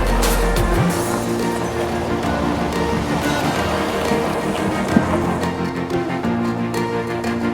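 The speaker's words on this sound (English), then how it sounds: "it is starting to rain yet again" Steady rain falls outdoors in California around a 2020 RAM truck, a dense, continuous hiss with scattered drops and a soft low rumble, loud and unbroken.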